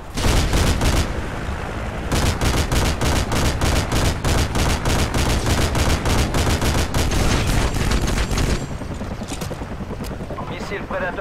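Sustained rapid gunfire from an Apache helicopter in Call of Duty: Modern Warfare 2, loud dense bursts of shots running almost continuously for about eight seconds before easing into quieter battle rumble.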